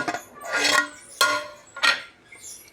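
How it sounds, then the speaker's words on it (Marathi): A metal lid lifted off a pot of veg pulao cooking on low heat, with several close clanks and scraping metallic rattles spaced over a few seconds. "5 मिनिटं झाले, आता झाकण काढून दाखवते।"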